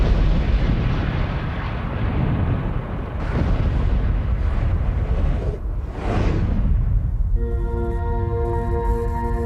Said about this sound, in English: Explosive experts detonate the dynamite.